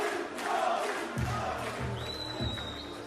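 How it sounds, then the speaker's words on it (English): Crowd at a live boxing night in a Hamburg arena, a broad sustained roar of cheering with scattered shouts and a few dull thuds, heard from ringside. "And you can hear the crowd behind me cheering."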